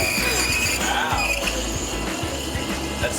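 Espresso machine steam wand frothing milk in a pitcher during a morning broadcast, a steady loud hiss with a squealing edge running throughout.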